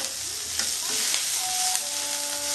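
Ridge gourd sizzles steadily in a little oil in a pan while being stirred, with a continuous close frying hiss and a few sharp scraping strokes; no one speaks.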